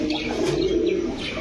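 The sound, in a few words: pigeons cooing at a pigeon sale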